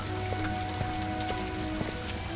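Steady rain falls with scattered raindrops pattering and dripping close by, a soft continuous wash of water all around with no voices.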